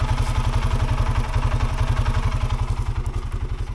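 An Arctic Cat 700 engine running on a first test ride through the woods, a loud, close, rapid throbbing chug with even mechanical pulses and a clattery edge, steady throughout with no talk.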